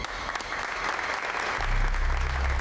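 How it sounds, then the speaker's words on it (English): A group of people in a control room cheering and applauding, a dense, steady wash of clapping and raised voices that swells slightly louder toward the end. "Somewhere in a rendered control room, people cheer."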